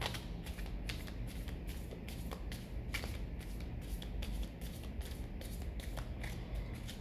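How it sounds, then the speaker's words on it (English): Tarot cards are shuffled repeatedly in quick riffling bursts, close and fairly quiet, with a steady rhythmic pattern and no talking. "I'll do one more cleaning shuffle"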